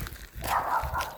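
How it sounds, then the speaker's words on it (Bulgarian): Dogs bark a few times during an outdoor walk, sounding fairly close in a short, muffled burst. "Там има кучета много"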